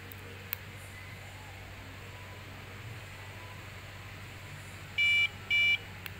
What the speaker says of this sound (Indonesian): dapat dilihat bahwa terdengar suara buzzer meskipun dari pelan karena saya tidak menambahkan transistor pada buzzernya.